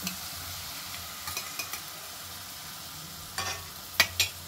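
Chopped tomato sizzles in a pan of softened spring onions, with quiet stirring scrapes and a few sharp crackles near the end, close and fairly soft.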